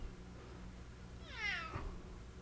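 A house cat gives a single clear meow of rising and falling pitch, close by over a quiet room background.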